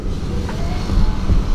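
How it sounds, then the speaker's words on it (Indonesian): A car passing outside, heard faintly as a dull, muffled low rumble from inside a car cabin fitted with sound-deadening insulation. "Ada mobil lewat, nggak begitu masuk."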